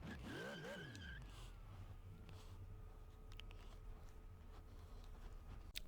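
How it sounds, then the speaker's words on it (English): A car doing a burnout in the VR game Car Mechanic Simulator: a rising tire squeal and revving engine at the start, then a steady low engine drone that continues alone. "This is the camera angle I wanted of the burnout."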